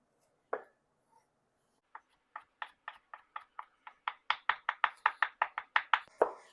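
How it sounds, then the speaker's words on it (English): A knife mincing garlic on a cutting board: one knock, a pause, then a quickening run of about twenty crisp taps that grow louder, close and clear against quiet. "And then I'll just run my knife through them crisscross both ways to get them"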